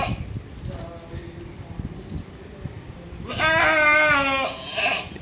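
A goat bleats loudly and close by, one long wavering cry followed by a shorter call, over faint background noise and movement.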